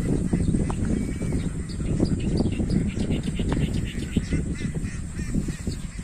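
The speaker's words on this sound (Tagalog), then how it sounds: "yung mga itik sa palayan" A flock of ducks forages in a rice field, giving dense overlapping quacks and honks throughout, fairly close and steady, with no talking.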